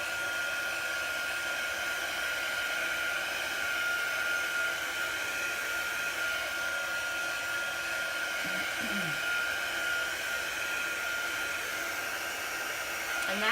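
A heat tool blows steadily to dry chalk paste on a wooden sign, a continuous close whooshing drone holding at an even level throughout.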